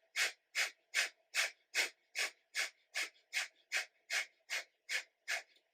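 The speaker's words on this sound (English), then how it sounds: "we do the panting-like style of breathing and pumping the navel at the same time" Breath of Fire yoga breathing: about fourteen sharp, forceful exhales through the nose in a quick, even rhythm, close and clear with no talking.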